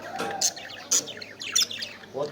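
Budgerigars, including albino and lutino birds, and cockatiels housed together give short bright chirps and tweets in several quick bursts, close and fairly loud.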